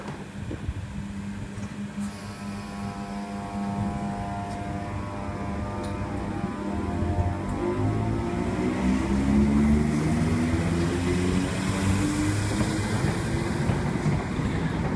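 A Class 317/7 London Overground electric train running a service to Chingford passes through Bethnal Green, its motors whining in rising and falling tones over a steady rumble that swells to a peak near the middle and holds loud throughout.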